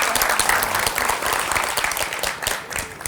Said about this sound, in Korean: 지금만큼만 계속 행복하시라고 우리 박수 좀 보내드리죠